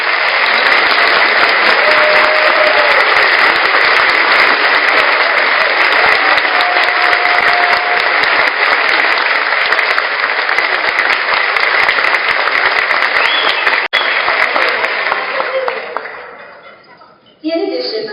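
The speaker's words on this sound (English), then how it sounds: "will you join me in applause today?" Sustained applause from an audience honoring people at a National Philanthropy Day event, dense steady clapping captured close through house sound that carries for many seconds before tapering and cutting off near the end.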